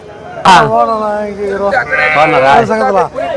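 A sheep bleats loudly and close by at a livestock market, a long wavering call followed by shorter bleats.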